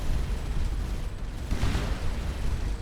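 Mines blow up in the space game Starcom Nexus, a continuous rumbling roar of blasts that swells slightly partway through, with no talking over it.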